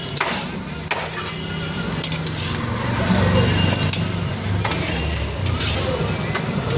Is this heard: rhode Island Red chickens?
no